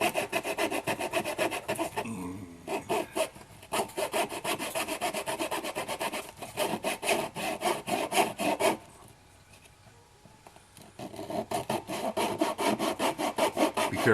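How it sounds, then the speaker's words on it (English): Hand saw cutting thin 1/8-inch wooden sticks for a 1/72 scale Red River style cabin model: rapid, rhythmic rasping strokes up close, pausing briefly twice between bursts of sawing. "Be careful when you saw these because I mean, they're only 1/8 of an inch wide"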